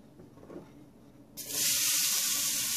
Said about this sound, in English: I'm going to saute my onions and my celery for just a couple minutes